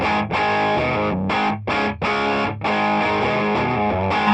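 A heavily distorted electric guitar plays chords and sustained notes through an amp rig set for higher gain, loud and close, with brief gaps between phrases.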